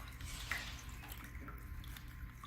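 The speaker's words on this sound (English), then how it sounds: "With a full bottle of water, and we're just gonna pour it on the panel" Water poured from a full bottle onto a standing seam metal roof panel gives a steady, faint splashing trickle with no voices over it.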